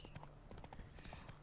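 Roach the horse trotting in The Witcher 3, a steady clip-clop of hooves at close range, with faint game ambience beneath and no talking over it.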